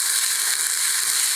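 Barnyard millet and moong dal roast in ghee over medium flame, giving a steady, close, even sizzling hiss with no talking.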